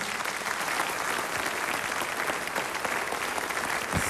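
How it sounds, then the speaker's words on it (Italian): An audience applauds the opening band at an Italian television broadcast, a dense, steady wash of clapping that stays loud for the whole stretch, with no voices over it. "applauso per il gruppo che ha aperto la nostra trasmissione"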